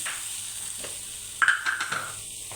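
Crushed onion and salt sizzle in a hot pan for a fish fry, a steady close frying hiss with a burst of louder crackles and stirring scrapes partway through.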